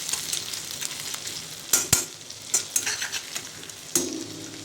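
Ginger and garlic sauté in a hot pan with a steady sizzle, broken by several sharp scrapes and clinks of a spatula stirring against the metal.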